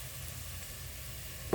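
Rice tipped into a pan of onions fried until red, setting off a steady close sizzle that holds evenly, then a short knock right at the end.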